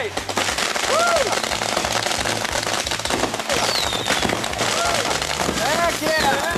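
Box of fireworks going off: dense crackling bursts and rapid popping fill the whole stretch loudly, with whistling rising and falling streaks, while people shout and cheer over it.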